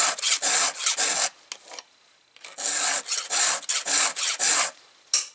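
A hand file rasps across a chainsaw chain in quick rhythmic strokes, a bright scraping pattern of about a dozen close strokes in two bursts separated by a short pause, with no talking.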